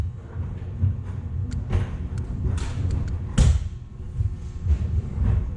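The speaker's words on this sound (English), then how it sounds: "I'm going to boot it up in dry fire." An Empire TM15 paintball marker switched on and dry fired, giving a series of dull thumps and clicks at irregular intervals with one sharper, louder crack, close by against low background rumble.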